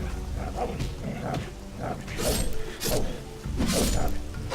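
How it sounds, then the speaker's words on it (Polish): Wolves barking and snarling in the video game Risen during a hunting fight, repeated harsh bursts over game noise, with short crashes between them. "Zajmij te wilki."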